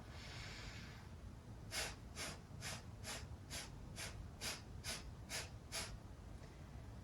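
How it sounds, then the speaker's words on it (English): A yoga breathing exercise: one long, airy inhale, then ten short, sharp nasal exhales in a quick, steady rhythm, close and clear with no talking. "So you do one big inhale, 10 little exhales, and we'll do that 3 times."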